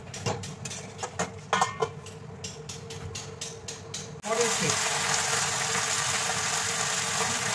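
Meat fries with Kashmiri chilli powder and black pepper while being stirred, sharp scraping clacks of a spoon against the pan at first, then a loud steady sizzle.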